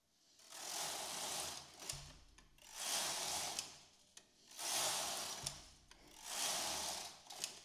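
A knitting machine works rows of rib stitch, its carriage sliding back and forth in four long swishing passes, each closing with a clack of needles and gears.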